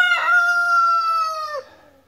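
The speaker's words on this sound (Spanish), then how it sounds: "Una peleita de gallo ahí para que se cure un rato." A single loud rooster crow close by, a long harmonic cock-a-doodle-doo lasting about a second and a half that drops off at the end, heard alone as two roosters square off in a scuffle.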